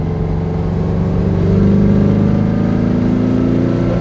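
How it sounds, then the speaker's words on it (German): A 1963 Porsche 356 B T6 Cabrio, tuned to about 160 hp, runs with a loud, close, steady engine drone that swells briefly midway as the revs rise, with no talking. "Und die Maschine hat einen super Sound"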